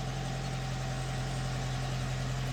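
A Seat Arosa's 1.1 litre petrol engine idles roughly with the engine management light on, giving a steady, close, low droning hum with a constant tone and no speech.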